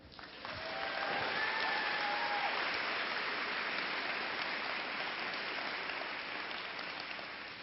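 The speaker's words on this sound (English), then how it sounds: "So with great pleasure and a round of applause, let's recognize our treasurer, Bart Griffith." Audience applause at a convocation, a crowd clapping steadily and loudly for several seconds after a quick start, then gradually tapering off.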